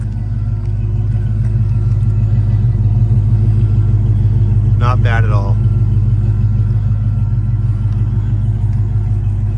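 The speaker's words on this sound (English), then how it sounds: "We'll go to the back so you can hear the exhaust." A Ford Fox Body Mustang with a tasteful aftermarket exhaust idles up close, a loud, steady, deep rumble that never lets up, while someone briefly speaks over it.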